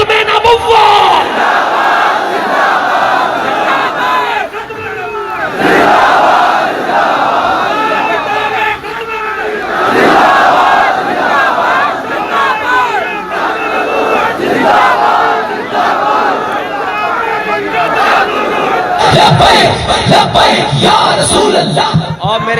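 A large crowd at a TLP religious rally in Nankana Sahib chants religious slogans in loud, unison bursts. The massed voices rise and fall rhythmically for over twenty seconds, with a brief rougher surge of cheering near the end.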